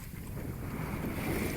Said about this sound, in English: Wind's just blowing straight from there right now.